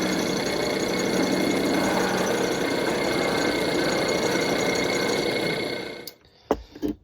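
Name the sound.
polishing abalone trim on a finer wheel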